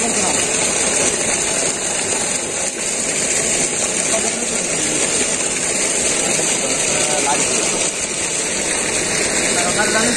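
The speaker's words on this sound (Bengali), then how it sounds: "এইদিকে হচ্ছে আমাদের মোটর চলতেছে পুকুরে, দেখতেই পাচ্ছেন" An electric water pump motor running beside a fish pond outdoors, with a loud, steady mechanical hum and hiss that continues unbroken.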